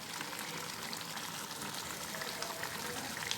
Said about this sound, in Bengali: ওই 1 বাটি মতো জল দিচ্ছি